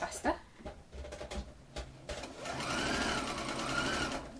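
Sewing machine edge stitching close to a fabric edge, starting with short bursts and stops and then settling into a steady fast whirring run, with a person talking over the start.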